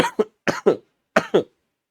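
Three quick pairs of close, dry coughs, each a short double hack, separated by brief silences.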